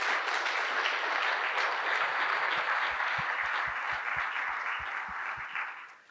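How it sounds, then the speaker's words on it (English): Steady audience applause for a veterinary professional development panel fills the room, fading slightly toward the end, with a few distinct low thumps mixed into the clapping. "Can I get a round of applause for our fabulous panelists?"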